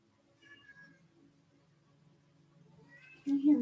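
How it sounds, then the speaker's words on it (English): A cat meows a few times at a distance, faint and drawn out, followed by a sudden louder rustle or thump at the end. "You hear my poor kitty."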